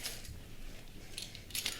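A set of keys is thrown down and lands with a metallic jangle and clink, a couple of brief bright rattles over a quiet room background.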